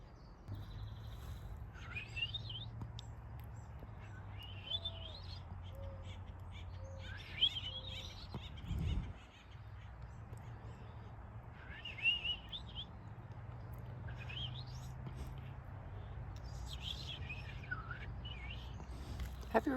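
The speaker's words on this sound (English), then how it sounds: "Have you heard that bird before?" A wild bird calls in repeated short chirping phrases every couple of seconds, fairly faint and at some distance over a low steady outdoor hum, with no one talking.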